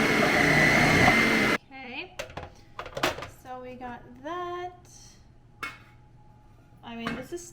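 Food processor with a large shredding disc running on vegetables, a loud steady whirring grind for about a second and a half, then stopping, followed by clattering handling and a person talking.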